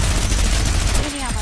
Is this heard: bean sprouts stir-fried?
no